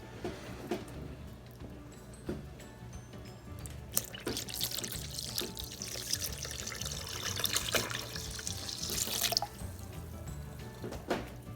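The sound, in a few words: water poured into lemonade mixture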